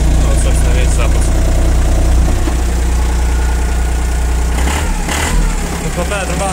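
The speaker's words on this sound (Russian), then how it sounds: "Двигатель работает очень ровно." The engine of a Japanese four-wheel-drive mini tractor with a cab idles loud and close, a steady low rumble that runs smoothly throughout with a slight change near the end.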